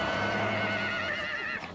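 Przewalski horses whinny on arrival at Ulaanbaatar after a flight from European reserves, one loud, close, wavering neigh lasting over a second before fading.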